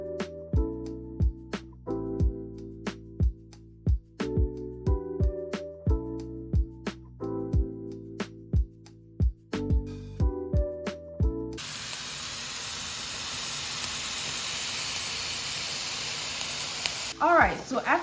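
A burger patty drops into a hot pan and settles into a steady, loud sizzle, following a run of sharp rhythmic taps and knocks from shaping the meat.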